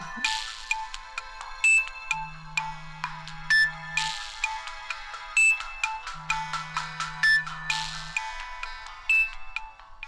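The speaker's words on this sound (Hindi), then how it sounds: "अम्मी का फोन होगा, आप उठाइए" A phone ringtone plays a repeating melodic tune of bright tones in several bursts, with a steady low hum underneath. Nobody speaks.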